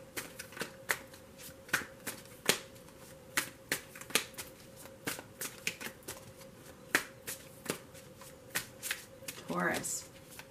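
Tarot cards are shuffled by hand in a rapid run of crisp, close riffling snaps and flicks, with a brief softer rustle near the end and a voice present in the background.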